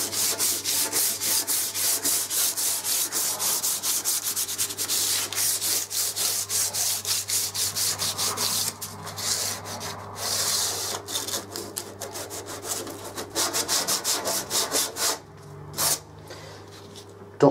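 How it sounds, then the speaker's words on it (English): Light hand sanding of wood ahead of painting, a steady run of quick scratchy back-and-forth rubbing strokes, close and fairly loud, slowing and breaking up toward the end. "Ready for a light sand down."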